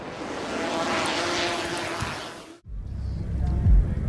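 An airplane flying: a loud, broad rushing engine roar fills the first two and a half seconds, then drops away abruptly to a quieter low rumble.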